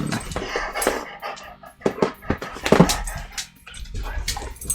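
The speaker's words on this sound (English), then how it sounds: "The dogs are very excited for the stream to be over." Several dogs bark excitedly indoors in short, scattered bursts, fairly close, with whimpers and clatter between the barks.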